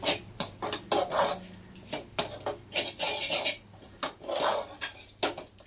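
A spoon scrapes and clinks against a pan as moringa leaf fry is tossed with peanut-garlic powder, in irregular stirring strokes that come close and clear with no talk.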